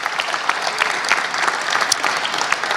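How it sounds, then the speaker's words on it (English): Steady audience applause at an NBA event in Arizona, dense clapping from a large crowd, loud and continuous with no talk. "Please give them a nice round of applause."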